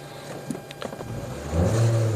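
A 2005 Mitsubishi Lancer engine idles steadily, then revs up louder with a low drone near the end, heard close by with no talk.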